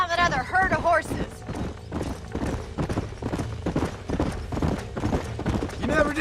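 Horse hooves clip-clopping at a steady trot in the video game Red Dead Redemption, a continuous rhythmic beat under a brief voice at the start.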